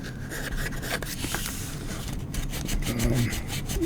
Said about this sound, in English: sanding it off